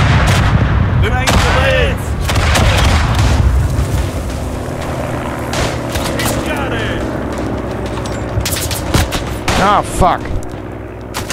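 Machine gun and rifle fire in the WWI shooter Tannenberg, on a Ukraine map with Romanian forces: loud, dense bursts and booming shots, near and far, over a continuous battlefield din. A man curses briefly.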